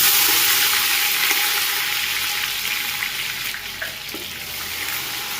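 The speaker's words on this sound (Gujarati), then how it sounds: "ધીમા ગેસ ઉપર વઘારને પકવવાનો" Whole spices, dried chillies, bay leaves and cumin sizzle steadily in about 700 g of hot oil over a low flame while a chili paste tempering is fried for restaurant-style Punjabi chole. The frying is continuous and fairly loud, with a light stirring clatter.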